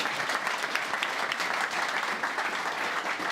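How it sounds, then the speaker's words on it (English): A conference audience gives a big round of applause at the close of a Q&A session, a dense, steady wash of many hands clapping throughout at close range, with no voices over it. "Big round of applause."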